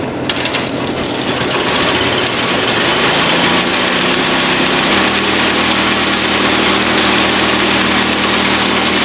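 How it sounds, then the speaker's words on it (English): A small grain auger runs steadily, loading stock feed from a little silo into an air seeder during seeding, its loud continuous motor drone and mechanical rumble shifting slightly lower partway through, with no talk. "It's not the finest auger, but it's the only one that'll fit in these little silos."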